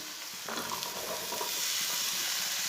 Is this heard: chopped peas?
yes